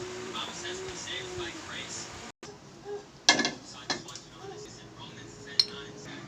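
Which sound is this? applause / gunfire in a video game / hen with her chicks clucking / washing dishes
washing dishes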